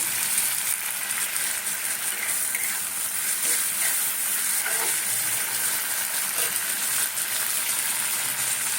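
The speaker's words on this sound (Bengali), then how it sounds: "একটা মিডিয়াম সাইজের একটা কোচানো পেঁয়াজ এবারে দেবো টমেটো" Chopped onion and tomato frying in oil in a pan, a steady close sizzle throughout with faint stirring scrapes and no talking.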